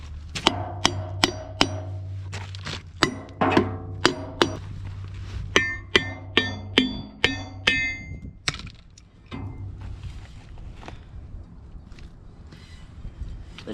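Metal clangs ring out as the brake drum comes off a Ford 8N tractor: a regular series of sharp hammer blows with ringing tails, close and loud, then a few scattered knocks and clinks before it goes quieter.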